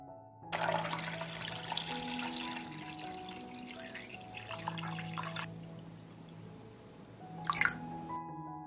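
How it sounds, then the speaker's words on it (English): Water pours steadily into a saucepan holding glass jars set on a cloth, a continuous splashing fill for several seconds, then a brief second splash near the end, with soft music underneath. "I pour water into the pot up to the height of the lid."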